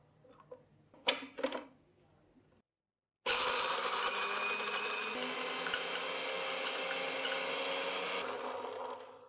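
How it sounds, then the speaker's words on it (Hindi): Roasted almonds rattle as they are added to a covered grinder, then after a brief pause the motor whirs loudly and steadily for about five seconds before cutting off. "बादाम डालेंगे ग्राइंड करने के लिए और इसको कवर करेंगे और इसको हम ग्राइंड कर लेंगे।"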